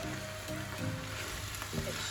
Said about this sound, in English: I'm just going to add some water. That's a good sound, that.